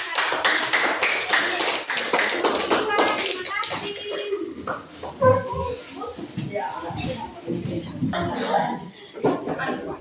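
Classroom applause after a student presentation at SMP N 1 Lewa, a junior high school: a burst of clapping from a class in the first few seconds, thinning into scattered claps as children talk and chuckle.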